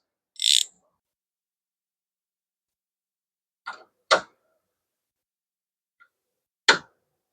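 Wrench tightening a fitting on an aluminum part, a few sharp isolated clicks and ratcheting ticks spaced seconds apart with near silence between them.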